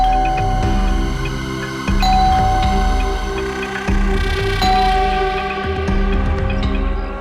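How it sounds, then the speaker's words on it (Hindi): A doorbell chimes at a house door, repeated ding-dong tones ringing several times in a row, fairly loud and close, with no talking. "जब चाबी है तो गेट खोलना, डोरबेल क्यों बजा रही है?"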